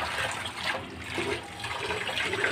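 Running water rinsing bitter gourd leaves at a home sink, a continuous splashing wash with fluctuating hiss, fairly close and steady, no talking.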